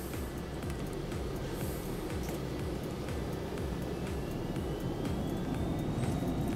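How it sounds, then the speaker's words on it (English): Simulated Phenom 300 business jet engines spooling at takeoff thrust in X-Plane 11, a steady loud broadband roar with a faint rising whine, continuous throughout with no talk. "Takeoff thrust is set."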